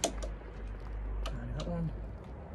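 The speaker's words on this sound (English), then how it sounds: "Set it. Put it on. Hear that click." A torque wrench on a brake caliper bolt gives a few sharp, close clicks as it reaches its set torque, under someone talking.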